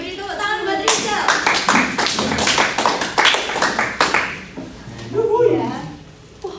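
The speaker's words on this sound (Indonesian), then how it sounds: "beri tepuk tangan buat Rizal." Classroom audience clapping in a microteaching session, a dense burst of applause from many hands lasting several seconds before fading, followed by a teacher's voice speaking.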